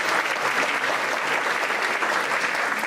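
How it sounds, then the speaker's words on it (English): Audience at a school third grade choral concert claps in sustained, dense applause, steady and fairly loud for the whole stretch with no voices over it. "Please give her a big round of applause."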